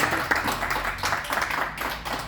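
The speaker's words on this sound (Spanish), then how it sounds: "La bienvenida con un aplauso a Julio Martínez" An audience at a cultural centre applauds to welcome a guest speaker, a moderately loud, fairly even wash of many hands clapping with a low background hum.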